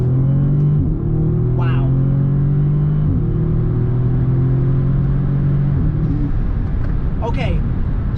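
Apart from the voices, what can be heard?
Audi S3 with DSG tune accelerating hard on highway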